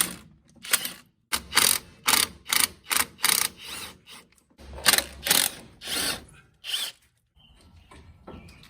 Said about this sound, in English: This is why I'm using my SP Tool electric.